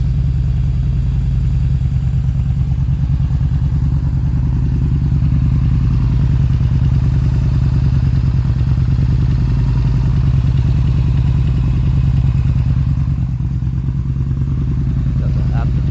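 A motorcycle engine idles before an ECU flash, holding a steady, close low rumble with an even throb for the whole stretch.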